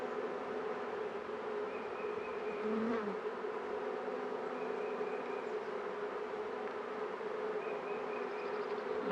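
Honeybees swarming around an open hive during a spring inspection: a dense, steady buzzing drone from many bees close by, with occasional louder passes near the listener and no speech.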